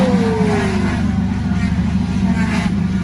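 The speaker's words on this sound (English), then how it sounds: "you can hear the cars riding by" Cars pass by on a road with a steady engine drone and one vehicle's pitch sliding downward as it moves away; continuous traffic hum throughout.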